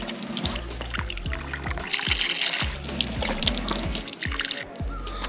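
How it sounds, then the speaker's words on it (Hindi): Water runs from a foot-operated tap in a steady trickle and pour, close and fairly loud, with low clunks and background voices underneath. "फर्स्ट टाइम ऐसा हो रहा है कि पैर आपको करना है ऐसे फिर पानी आएगा।"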